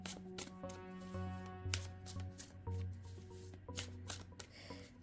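A deck of cards being shuffled during an Imbolc ritual reading, quiet and close, with a series of riffling bursts and soft slaps at an uneven rhythm, mostly alone.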